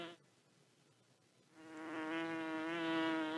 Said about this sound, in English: All right, so we got our buzzing bee, so that seems great.